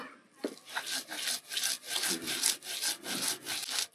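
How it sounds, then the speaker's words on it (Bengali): Shrimp, dried chili and onion are ground by hand on a grinding stone, a close, rhythmic back-and-forth rasping scrape repeating steadily, no voices. "চিংড়ি মাছ, শুকনা মরিচ, একটু পেঁয়াজ, এখন এগুলো বেটে নেব।"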